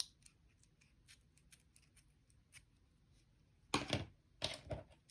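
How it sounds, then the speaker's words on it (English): Scissors snip through crochet yarn while finishing an amigurumi bunny ear, with faint small clicks at first, then two distinct louder close-up cuts near the end. "what I like to do is snip the yarn like where it is"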